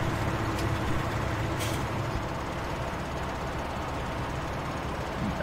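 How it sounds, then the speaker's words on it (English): A heavy truck rumbles up in Farming Simulator 17 on the Beaver Creek farm, a steady loud low engine drone running the whole time with a faint hiss near the start and no talking. "where's our truck? Here he comes."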